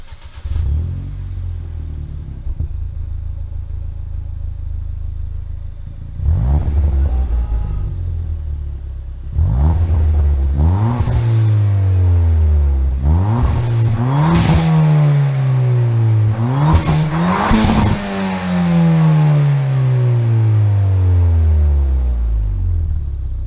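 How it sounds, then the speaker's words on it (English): A Ford Fiesta drives with a muffler and silencer fitted, its exhaust rumbling loud and close as the engine revs up and eases off through several gear changes, the pitch climbing and falling again and again. "I left the silencer on, drove around a little bit, and that's what this sounds like"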